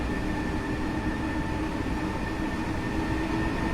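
A BR423 electric commuter train in Train Simulator 2016, on the Munich–Augsburg line, accelerates with a steady low rumble and a faint electric motor whine, constant and close, with no talking.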